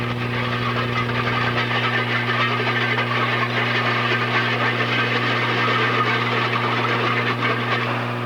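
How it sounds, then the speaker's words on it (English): Big, powerful farm tractor pulling a large disc harrow to prepare ground, steady heavy engine drone with low hum and rumbling machinery noise, continuous and close. "A big, powerful tractor is needed to pull the large disc harrow"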